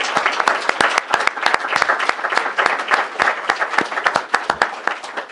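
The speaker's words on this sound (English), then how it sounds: "we owe her a huge round of applause" A public meeting audience bursts into applause, many hands clapping loudly and unevenly with sharp individual claps standing out over a brief, lively ovation.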